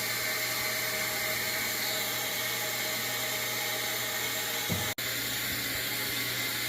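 A Maytag top-load washing machine runs after being started, giving off a steady, loud whooshing hum with a constant low drone, interrupted once by a brief sharp click.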